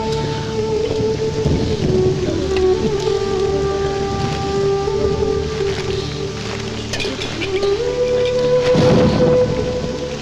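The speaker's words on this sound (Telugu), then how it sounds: "ఇప్పుడు అర్ధంతరగా ఈ వర్షం పట్టుకుంది" Heavy rain in a Telugu film scene pours as a steady, dense hiss throughout, layered with sustained musical tones, with no clear thunderclap standing out.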